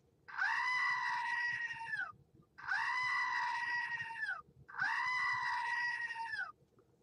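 Three loud, long goat screams in a row, each lasting about a second and a half with short gaps between, close and alone with no talk.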